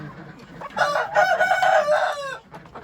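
Several farmyard roosters, young and old, crow loudly and close, with clucking mixed in during an evening on a homestead.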